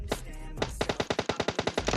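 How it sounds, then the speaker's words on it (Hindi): Rapid automatic gunfire in a squad-rush shooter game, a dense burst of about a dozen evenly spaced loud shots after a single opening crack, close and alone with no talk. "सामने से ना फायरिंग की आवाज़ आ रही होती है"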